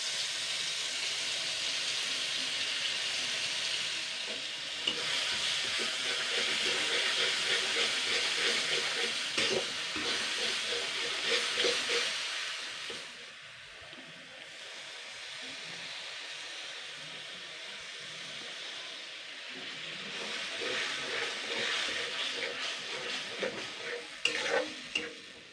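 Ground spice paste frying in oil in a pan for a fish-oil chorchori, a long loud sizzling hiss with stirring scrapes that dips in the middle and returns toward the end.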